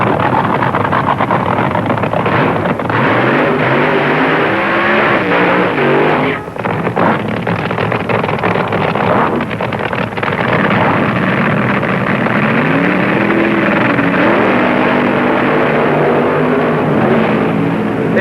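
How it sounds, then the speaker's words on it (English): Funny car drag racing engines roar at the 1970 NHRA Supernationals, a loud continuous blast of noise with rising and falling engine pitch as cars launch and charge away down the strip. "The funny cars of Gene Snow and John Decker."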